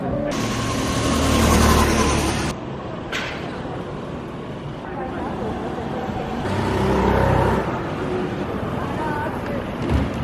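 Go-karts race around the Mini Suzuka Circuit track in Kaohsiung, with a steady engine drone that swells and fades as karts pass nearby, while voices chatter over it.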